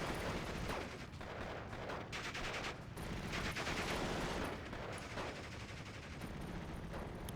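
Tanks fire on houses in the video game Steel Division II, a dense continuous rumble of distant gunfire and blasts with periodic heavier thuds, steady and fairly loud throughout, no talk.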